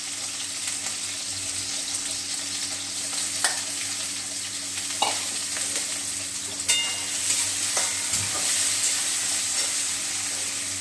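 Potatoes fry in a pan with a constant close sizzle, broken by occasional stirring scrapes and clinks, with no talking.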